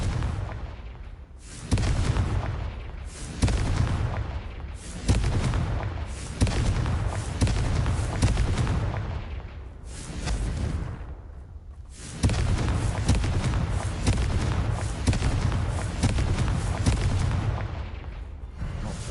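Repeated Confringo fire-spell explosions from the Hogwarts Legacy video game, a series of loud, close booming blasts roughly every second or two, with brief gaps between bursts and no talking.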